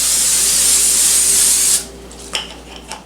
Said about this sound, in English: We're going to go ahead and spray it.